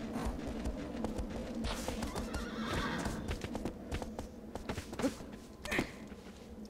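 A horse in Shadow of the Colossus gallops with rapid clip-clop hoofbeats, and a neigh or whinny rises above them, close and fairly loud, over game ambience.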